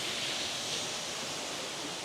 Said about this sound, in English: Behind the waterfall.